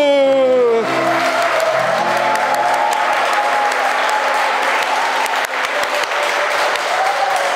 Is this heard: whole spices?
no